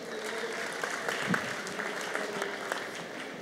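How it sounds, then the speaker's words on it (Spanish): An audience at a Campus Party event applauds with a fairly faint, steady wash of clapping heard from a distance, with scattered sharper claps standing out. "un aplauso para todos ellos"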